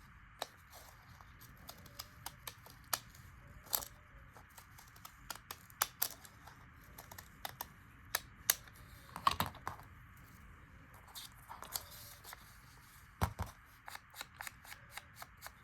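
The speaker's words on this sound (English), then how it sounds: "just take whichever scissors I can grab first and just make it a little bit smaller" Quiet irregular snips and clicks of scissors cutting paper, close up, in scattered bursts with short pauses between cuts.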